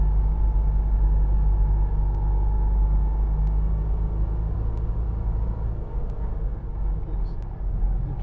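Citroen 2CV nicknamed Raymond on a single track road, its engine a low, steady rumble close by as it drops into second gear, with a faint voice over the drone.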